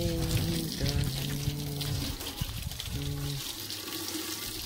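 Water splashes and pours steadily nearby while a motorbike is washed, a continuous running and trickling sound with tonal music or humming layered faintly behind it.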